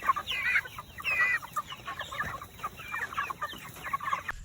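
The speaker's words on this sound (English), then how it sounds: "We've got chickens we're going to be selling eggs for." Chickens cluck steadily on a ranch, several hens calling in quick, overlapping bursts at close range, with no talking over them.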